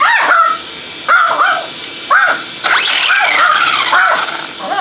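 Excited dog barking beside a ZD Racing DBX-10 RC car, a series of sharp close barks and yips in quick bursts with brief gaps between them, loud and without talk.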